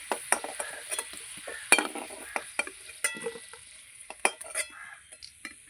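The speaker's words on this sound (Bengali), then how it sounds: "আলু আমি খুব লাল লাল করে ভেজে নিয়েছি" Potatoes frying in a wok are stirred and turned, bringing frequent sharp metal scrapes and clinks of the spatula against the pan over a soft sizzle, close by and without talk.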